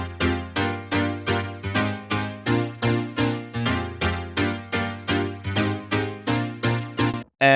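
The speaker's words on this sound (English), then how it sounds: "I took one piano from Nexus." Piano sound from the Nexus software synth, used in a future house track, plays a steady rhythmic pattern of short chord stabs, about sixteen even hits, each decaying quickly, loud and close with nothing else playing.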